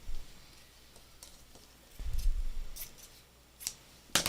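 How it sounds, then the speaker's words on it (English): Scissors cutting a weird shape out of a piece of fabric scrap, a few quiet, sparse snips and crisp blade clicks with soft rustling of the cloth in between, close and otherwise quiet. "a totally different piece of fabric, and I'm just gonna kind of cut out a weird shape"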